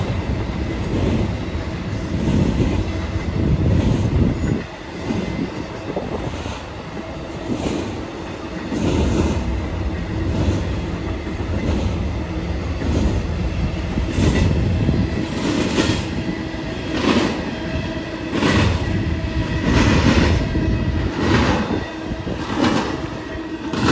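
A BNSF intermodal freight train rolls through Cajon Pass, a steady loud rumble of passing cars with rhythmic wheel clicks and faint squeals, no voices.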